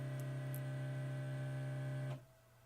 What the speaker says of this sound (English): For some reason, the laser is quite loud when it moves back into position.